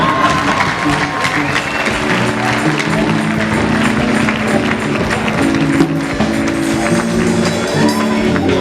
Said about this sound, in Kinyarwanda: Mukomere amashyi.